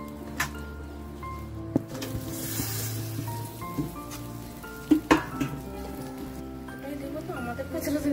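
Potatoes tumble into a pan of frying spices for vegetarian samosa filling, setting off a steady sizzle with scattered stirring scrapes and knocks, while a voice talks over it.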